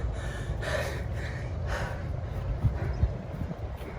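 Heavy, ragged gasping breaths after a tiring football drill, several loud inhales and exhales close to the microphone in a steady labored rhythm.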